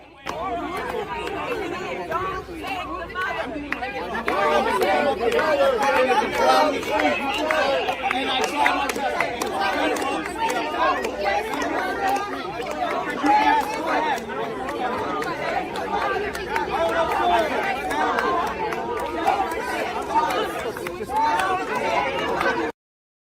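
Dense crowd chatter fills a street protest where people gather near an immigration enforcement vehicle, with many overlapping voices forming a steady, loud babble that never breaks for the whole stretch.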